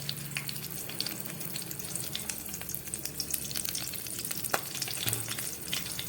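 Green chillies frying in hot oil with panch phoron spices, giving a steady, close sizzle with crackling pops and a brief stir scrape, and no talking.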